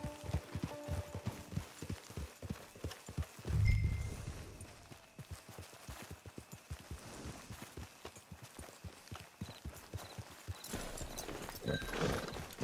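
Steady clip-clop of a horse's hooves walking at an even pace in the video game Red Dead Online, close by, with a brief low thump partway through and faint ambient sound.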